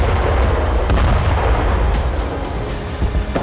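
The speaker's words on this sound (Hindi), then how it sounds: "धमाके की आवाज इतनी तेज है कि वीडियो बनाने वाला शख्स डरकर शेल्टर के नीचे चला जाता है" A missile strike on a weapons depot produces a deep, rumbling blast that roars continuously, loud and booming with sharp cracks layered in, echoing close by.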